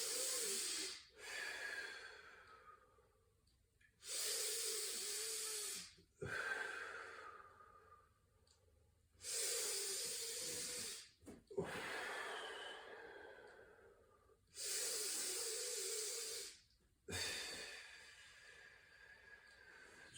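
Slow, deep breaths during a mobility stretching session, each long airy exhale rising and fading in a steady rhythm with short quiet gaps between, close and fairly soft.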